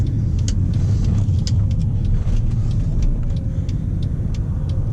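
A 2013 Mercedes C63 driven in manual mode, its engine giving a loud, steady low rumble under road and cabin noise, with no rising rev sweep, heard alone without talk.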